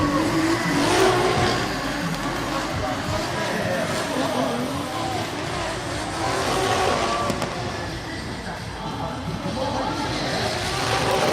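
A drift car on a qualifying run at an FIA Intercontinental Drifting Cup event, its engine revving hard with tire squeal, heard at a distance under continuous commentator speech.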